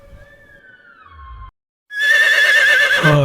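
A horse neighs in two parts: a thinner call fades out, then after a short silence a loud, full whinny rings out close by.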